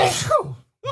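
One person sneezes sharply and loudly, with a brief inhaled build-up before the burst, followed by a short pause and a second small vocal sound.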